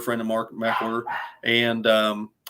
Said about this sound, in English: My dogs, I don't know if you can hear them in the background.